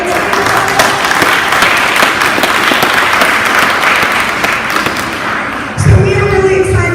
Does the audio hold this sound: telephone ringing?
no